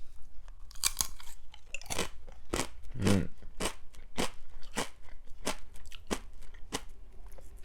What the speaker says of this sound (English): let's listen to the crunch test